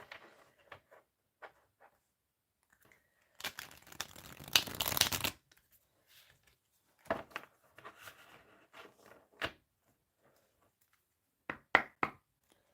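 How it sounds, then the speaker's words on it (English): Tarot cards are shuffled close by, with a longer riffling burst in the middle and scattered soft taps and shuffles around it. "I'm going to do one more shuffle because they feel really locked together."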